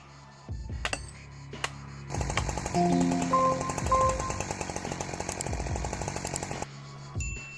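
A Husqvarna 572 XP chainsaw cuts into a giant oak, first giving a few short revs and then settling into a long, loud, sustained buzzing cut close to the mic before it drops back to idle with a final blip.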